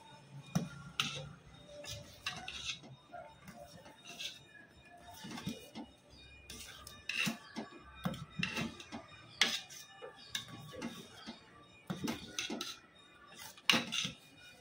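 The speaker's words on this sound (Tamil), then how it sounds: "இஞ்சி ஏலக்காயும் போட்டு நல்லா கலந்து விட்டுறலாம்." A ladle stirring ginger and cardamom into sweet pongal in a pot, with repeated light metallic clinks and scrapes at an irregular pace, quiet and close, no talking.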